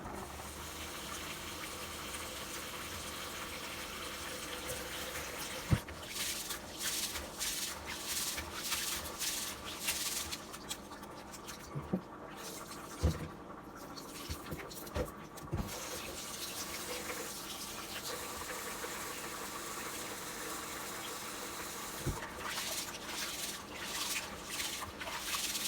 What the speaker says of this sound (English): Let's go ahead and wash the rice.